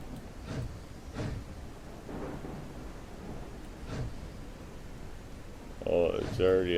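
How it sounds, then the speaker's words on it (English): Rain patters steadily in the video game RailRoads Online, with low rumbles of thunder rolling in now and then, and a voice speaking briefly near the end. "This rain is not helping with the loading process."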